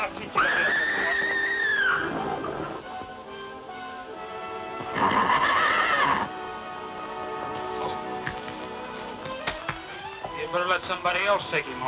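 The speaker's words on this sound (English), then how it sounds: "Much obliged for the horse, Sunset." A horse in a 1950 Western film lets out two high, wavering whinnies a few seconds apart, with voices talking and background noise continuing throughout.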